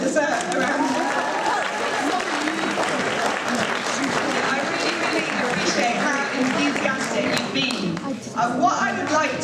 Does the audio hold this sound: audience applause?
yes